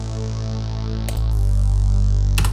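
Synth bass preset called Every Angel Is Terrifying, played dry with no effects: a loud, sustained low buzzing drone with a brief bright click partway through and another near the end, heard alone.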